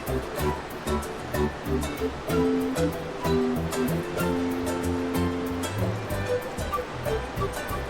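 Rushing river water during a porter crossing on a trek to Inca ruins, a steady, fairly loud churning wash with a sustained tonal hum layered over it and no talking.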